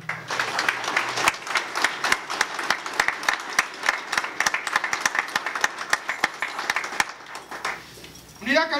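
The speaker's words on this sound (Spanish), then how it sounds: "Pedimos un aplauso para la primera generación de la Unidad Canina de la Policía de Investigación." Sustained applause from an audience at a police canine unit presentation ceremony, dense steady clapping for about eight seconds before fading, with a brief voice rising at the end.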